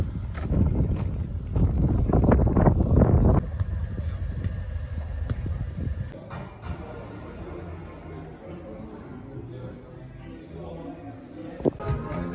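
Gusting wind buffets the microphone on a windy day at a football ground in Southam, heavy and close at first, then easing into a lighter, steady rush.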